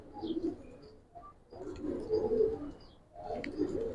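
Giribaz pigeons coo in soft, low bursts, two rounded phrases separated by a short lull, close and moderately loud with no one talking.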